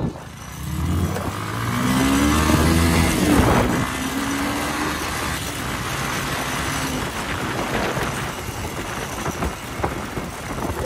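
Motorcycles take off at the start of an informal Sunday race, engines revving loudly and rising in pitch as they pull away, then a steady broad roar of riding and wind continues.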